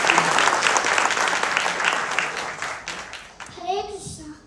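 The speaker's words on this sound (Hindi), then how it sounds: "शुरू करने से पहले आप बच्चों को अगर पहले एक बार तालियां बजा के प्रोत्साहन देंगे तो बहुत अच्छा होगा" An audience claps for children at a Bhagavad Gita class: dense, lively applause runs for several seconds, then fades as a voice begins speaking.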